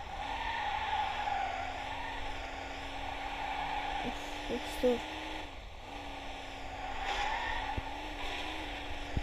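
A car drifts in the driving game Car Simulator 2, with a continuous engine drone and drawn-out tyre squeal throughout. A few sharp bumps break through the noise, and someone briefly speaks over it.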